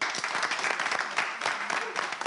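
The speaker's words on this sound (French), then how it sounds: "On l'applaudit." Studio audience at a French television game show applauding a contestant, a dense, steady burst of clapping that fills the whole stretch with no break.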